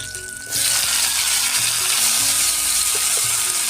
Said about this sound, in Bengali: এবার টমেটো কুচিটা দিয়ে দেবো।